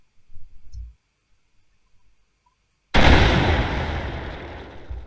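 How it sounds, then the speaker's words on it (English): A tank cannon fires in a multiplayer tank video game: a sudden loud, close blast after a brief quiet stretch, ringing out into a long, decaying rumble, with a faint short clunk just before. "Now I will go back here and shoot it at an angle to"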